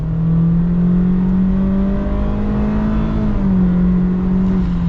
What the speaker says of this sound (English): Now, acceleration.